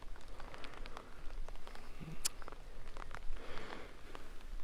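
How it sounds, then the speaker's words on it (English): Light drizzle falls outdoors at a zoo lion area, a soft steady patter of scattered raindrops close by, with a few brief sharper taps and clicks along the way. "This is a little too much drizzling for me."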